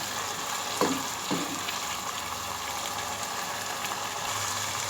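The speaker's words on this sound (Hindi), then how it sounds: "लहसुन, अदरक और प्याज इन सब का इस तरह मिक्स भूनते जाएंगे" Garlic, ginger and onion frying together in a pan for egg kofta curry, a continuous even sizzle with two brief clinks of a stirring spoon near the start.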